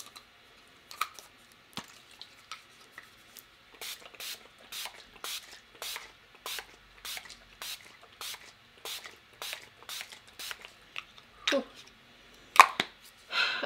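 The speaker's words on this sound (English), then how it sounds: "spray my face" A rapid series of short bursts of makeup setting spray onto a face, hissing one after another in a steady rhythm, close and fairly quiet.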